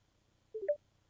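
A short burst of telephone dialing tones, three quick beeps in a row as a call is placed, clear and close over a quiet background.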